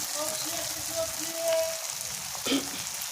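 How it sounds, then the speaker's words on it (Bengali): Spices with onion and garlic paste fry in a pan for a spicy beef liver bhuna, producing a soft, even sizzle with a few brief louder sputters and no speech. "সমস্ত উপকরণগুলোকে আমি ভালোভাবে একটু কষিয়ে নিচ্ছি।"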